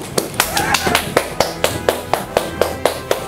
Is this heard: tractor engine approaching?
no